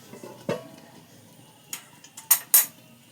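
A lid is set onto a cooking pot of Mughlai white chicken, giving a few light metallic clinks and clatters near the end after a soft tap, close by and otherwise quiet.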